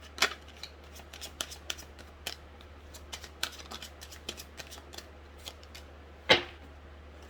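Tarot cards are shuffled close up in a quiet room, producing a run of quick, crisp flicks and riffles with a sharper slap near the end over a low steady hum.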